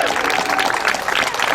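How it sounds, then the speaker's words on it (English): Audience applause at a post-meeting speakers' gathering, dense clapping throughout with a voice over it. "So let's give a big round of applause to Rusty."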